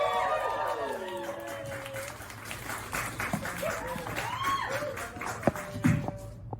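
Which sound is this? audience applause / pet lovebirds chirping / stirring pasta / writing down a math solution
audience applause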